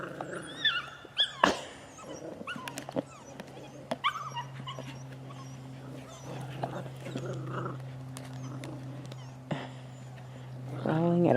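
A dog growls at a plastic bowl indoors on a rainy day, a low steady rumble that runs for several seconds under occasional quiet talk and small knocks.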